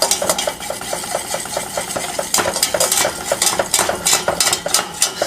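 A spoon scrapes and clinks steadily against a pan while flour and butter cook into a roux for a mac and cheese sauce. The rhythmic stirring sits close over a soft sizzle, with no talking.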